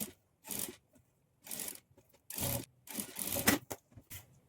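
A sewing machine stitches a blouse band, running in short, separate bursts of rapid mechanical whirring with silent pauses between, close and fairly quiet.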